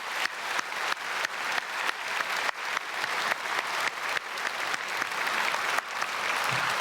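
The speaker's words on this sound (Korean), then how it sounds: "우리 청소년 합창단에게 크게 박수하겠습니다" A church congregation gives a youth choir warm, sustained applause. Rhythmic waves of clapping swell and repeat throughout.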